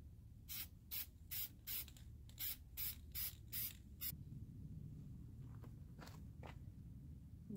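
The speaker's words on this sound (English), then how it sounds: "you're going to start to spray paint" Spray paint hisses out of a can onto a dollar-store Halloween tree in about ten short, evenly spaced bursts, close and crisp, followed by a few fainter sprays amid light handling noise.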